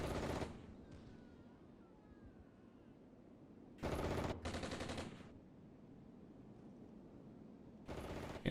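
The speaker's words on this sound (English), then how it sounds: "It's a bit of blind firing here." Blind firing in the wargame Armored Brigade: sharp bursts of automatic gunfire at the start, in the middle and at the end, with a faint low background between.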